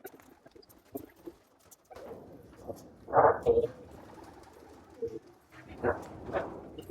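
Pigeons coo in a loft as young birds are handled and released for flight, with soft intermittent calls, shuffling and handling noises nearby, and no speech.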